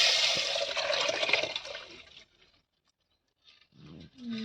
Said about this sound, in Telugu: ఇగో పచ్చి పులుసు పోసుకున్నాం